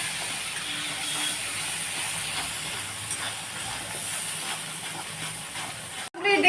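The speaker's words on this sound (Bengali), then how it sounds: "এবার একটু মশলাটা কষা হবে বন্ধুরা" Spices with turmeric, salt and sugar sizzle in a pan, a steady soft hiss that holds evenly throughout before a brief break and some handling noise at the very end.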